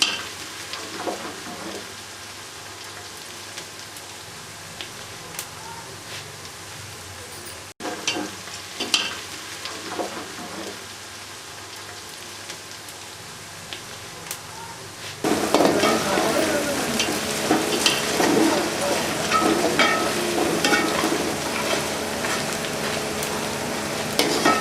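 Ginger and garlic fry in a pan with already fried onion while a petha salan cooks, a steady hiss and sizzle with scattered stirring scrapes that turns noticeably louder and fuller partway through.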